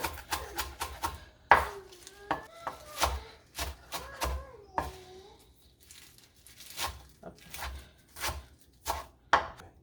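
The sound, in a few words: knife chopping spinach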